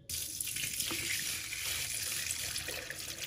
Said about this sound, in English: I'm gonna rinse that out because you guys can see.